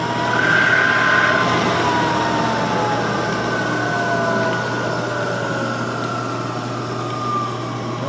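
A Chevalier FM-3VS knee mill runs with its spindle at its lowest speed, about 60 RPM, giving a continuous, fairly loud mechanical hum with a steady low drone and faint whining tones throughout.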